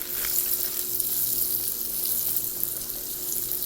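Eggplant frying in a hot skillet gives a dense, continuous high hiss and crackle, steady and fairly close, with a faint low hum underneath.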